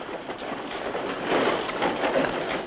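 A train runs on rails in a 1952 western film: a steady, moderately loud rumble with rhythmic clickety-clack from the wheels, rising slightly midway, with no voices.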